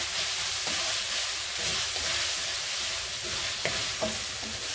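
Onions and ginger stir-fry in a hot pan, a continuous close sizzle with light scraping and stirring strokes throughout, no voices.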